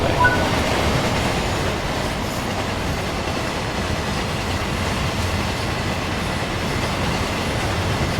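A cement freight train runs on the Midland Mainline, heard from the driver's cab as a steady, loud rumble and rolling track noise throughout.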